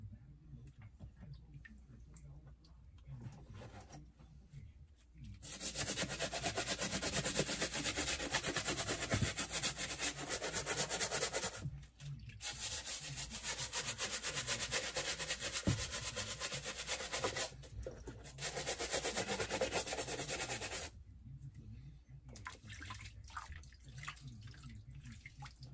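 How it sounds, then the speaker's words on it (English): Running water pours steadily in long stretches, broken by short pauses, as a water-damaged shoe is scrubbed with cleaner underneath, with a scrubbing, rubbing texture and occasional knocks. "Some people scrub it down with the cleaner and run it under the water"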